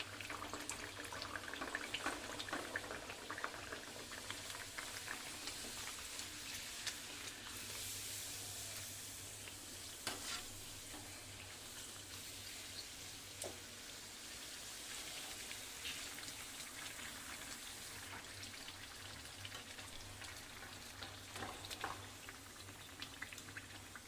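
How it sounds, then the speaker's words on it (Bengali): Soybean kachori frying in hot oil, a quiet, continuous bubbling hiss with scattered crackles and pops that sits low and steady throughout, with no talking. "তেলটা গরম হয়ে গেছে, আমি এই তেলের ওপরে লুচিগুলো একটা একটা করে ছেড়ে দিচ্ছি"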